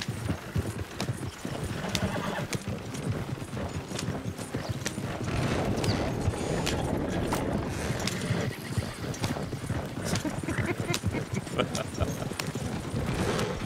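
Horse hooves clip-clop on the ground in the Red Dead Redemption 2 video game, a steady rhythmic walking beat with occasional whinnies, while a person talks intermittently over the game sounds.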